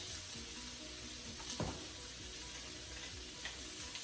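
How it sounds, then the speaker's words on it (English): Green beans with garlic and olive oil frying in a pan, a steady close sizzle running throughout with a brief louder crackle midway. "we have our garlic, our olive oil, and our green beans are cooking"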